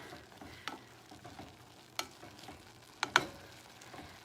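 Wild rice cooking in a pan is stirred by hand, giving soft scraping and a light sizzle with a few louder clinks of the spoon against the pan, close by with no talking.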